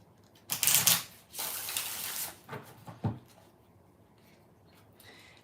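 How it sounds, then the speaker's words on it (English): Tarot cards being shuffled by hand: a few quick riffling bursts, close and fairly loud, followed by softer taps and card handling with no talk. "2 more shuffles"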